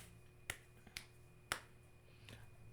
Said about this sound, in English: I'm clapping the back of my hand.